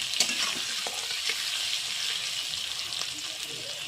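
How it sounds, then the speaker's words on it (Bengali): Potatoes with chopped onion fry in a pan, giving a continuous close, even hiss of hot oil with a few faint stirring taps and almost no talk. "আলুটা ভাজা হচ্ছে তার মধ্যে একটু পেঁয়াজ কুচি দিয়ে দিলাম"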